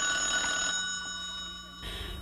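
An early-morning telephone bell rings in a house, a short faint electronic ring with steady tones fading briefly before resuming, alone without talk.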